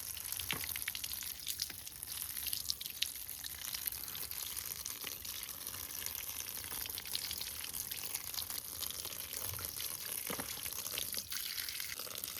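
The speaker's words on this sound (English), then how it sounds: "I just clean this in the tap water, normally like this." A BMC air filter from a Kawasaki ZX6R motorcycle is rinsed under a normal household tap, giving a steady close hiss of running water with small splashes throughout and no speech.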